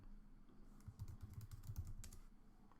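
A command is typed on a computer keyboard in quick, faint key clicks, a soft run of taps over two seconds with no speech.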